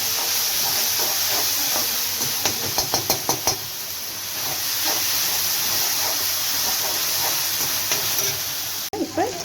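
Green chillies and ginger garlic paste sautéing in a pan for vegetable kootu, a steady close hiss and sizzle with a quick run of rhythmic spatula taps partway through and a sharp knock near the end.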